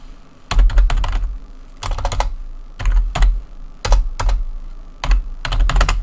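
Keys on a computer keyboard are typed in quick bursts of clicks while entering command-line network commands, about seven short clusters of close, crisp keystrokes separated by brief pauses.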